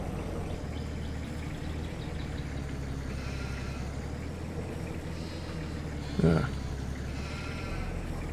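A single short sheep bleat in a video game rises briefly over a constant low engine drone, with faint voices in the background.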